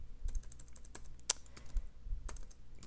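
Computer keyboard typing, a quick irregular patter of crisp, close keystrokes in bursts separated by brief pauses, with no voices.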